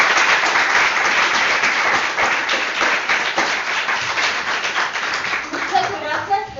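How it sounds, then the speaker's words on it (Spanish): Dense applause from an audience fills the room steadily after a medical lecture on congenital disorders of glycosylation, with voices mixed in and the clapping thinning near the end. "Un aplauso"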